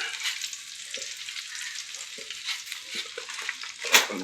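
Cumin seeds crackle and sizzle in hot oil, a steady bright frying hiss with light stirring taps and one sharper pop near the end, close and alone with no voices.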